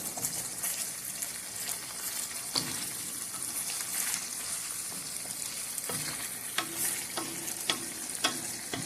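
Aloo keema, potatoes with minced meat, fries in oil in a pan, with a continuous soft sizzle and a spoon scraping and stirring now and then, and no one talks.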